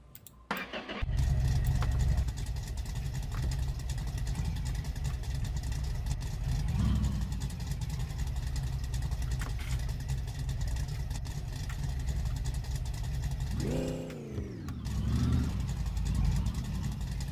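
Car engines start up and run loudly near the microphone with a steady low rumble, a revving swell around the middle and another sharp rev near the end.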